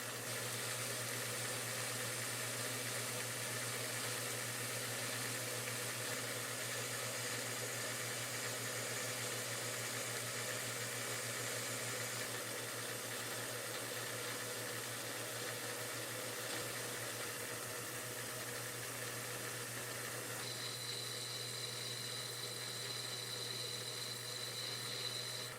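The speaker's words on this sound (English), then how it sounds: "Over to the lathe now to start on those cool fittings that I talked about that go in those holes in the bottom." Metal lathe turning small T-pin shaped steel fittings for a steam manifold, a steady continuous motor hum with broadband machining hiss throughout, a higher whine entering near the end, no talking.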